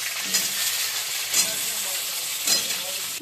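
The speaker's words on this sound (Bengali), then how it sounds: "এই তেলে আমি আলুগুলো আবার ভেজে নেবো।" Potato pieces frying in hot oil after cauliflower in a home kitchen, with a steady loud sizzle broken by three scraping stirs of the spatula, and no speech.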